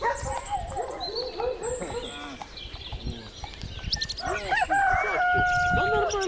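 A dog on a large farm near Baranovichi barks in short bursts while chickens cluck and a rooster crows nearby, the animal calls overlapping irregularly at moderate distance, with some faint talk mixed in.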